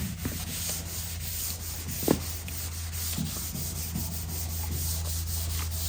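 A rag rubs and wipes across a classic car's body panel with wax and grease remover, a soft, steady scuffing at close range over a constant low hum, with one brief louder knock.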